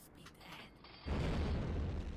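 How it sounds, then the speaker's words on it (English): Depth charges explode in the submarine game Silent Hunter 5 as a sudden deep boom that swells into a heavy, sustained underwater rumble. "More depth charges."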